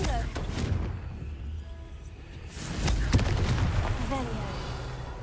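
A Confringo fire spell bursts in Hogwarts Legacy, several booming impacts rolling out over game music and effects, with a louder blast near the middle of the stretch.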